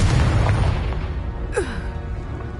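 A Confringo blast spell bursts in Hogwarts Legacy, a single loud booming explosion that rumbles out over a couple of seconds with a brief swooping whoosh near the end.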